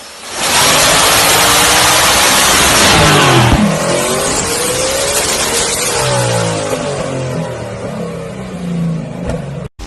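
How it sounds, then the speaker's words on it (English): A turbocharged V8 Toyota Supra revs hard and loud up close, its engine note climbing and then falling away through a series of throttle blips before it cuts off abruptly. "V8 Toyota Supra with turbo."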